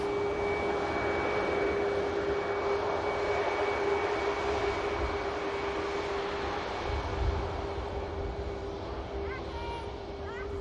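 A Boeing 737 MAX jet airliner at Manchester Airport produces a steady, moderately loud engine roar with a constant whine, sustained across the whole stretch, while a person talks faintly alongside.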